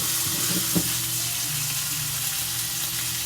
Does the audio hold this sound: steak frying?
yes